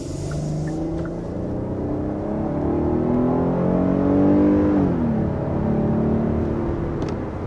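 A Kia Carnival minivan with a 3.5-litre 290-horsepower V6, heard from inside on a test drive: a smooth engine drone rises in pitch as it accelerates, dips at a gear change, then climbs again over steady road rumble.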